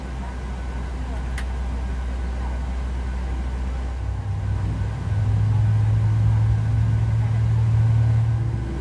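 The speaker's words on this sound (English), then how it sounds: "Starting engine 2." Engine 2 of a Boeing 737 starts up in a flight simulator game: a steady low cockpit rumble, then a rising turbine whine that climbs and holds as the engine spools up.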